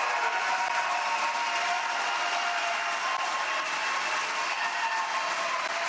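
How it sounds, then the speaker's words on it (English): Sustained applause from a debate audience at the close of the third GOP presidential primary debate in Miami, a steady dense wash of clapping with no pauses, moderately loud and filling the hall throughout. "The next line says if the audience can hold their applause."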